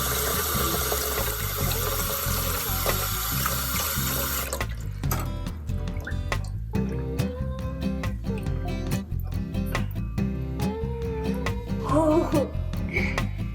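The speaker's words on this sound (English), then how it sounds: "I'm going to add a little more water that's warm" Warm water runs steadily from a tap into a container holding a unicorn egg toy, a continuous close rushing with small clinks and splashes over it.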